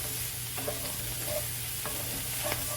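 Pre-cooked ground beef heats through in a pan, giving a steady, close sizzle with a few light scrapes of stirring and no talking.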